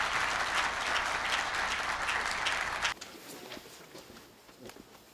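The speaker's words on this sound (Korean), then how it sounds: "네, 다시 한번 큰 박수 부탁드립니다." Audience applause at a year-end members' night awards ceremony, a dense broad wash of clapping that runs steadily for about three seconds, then cuts off abruptly and leaves only scattered faint claps and room sounds.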